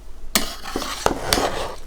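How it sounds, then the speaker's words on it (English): Cooked rice for Kabuli pulao being mixed and broken apart in a pot after dum, with a spoon scraping and clanking against the metal in several distinct knocks amid soft stirring noise. "we need to mix the chawals"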